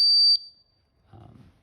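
A gas monitor being calibrated gives one loud, sharp high-pitched electronic beep that cuts off abruptly, followed by silence and a faint low rustle of handling.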